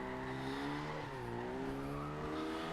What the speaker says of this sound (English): Get a nice ultimate drift on there